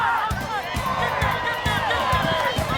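Crowd noise at a high school football game between Ottawa and Margaretta in Castalia, a broad roar of fans with rhythmic low thumps beneath, while a commentator talks over it.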